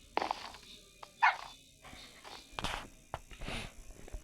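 A Minecraft dog gives short, quiet snorting barks and yips in a few scattered bursts, with soft game noises between them.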